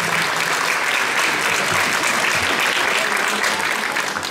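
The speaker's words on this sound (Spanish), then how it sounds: "un fuerte aplauso" A hall full of people claps for a school's thirtieth anniversary ceremony, and the applause holds dense and steady at full strength throughout the short stretch.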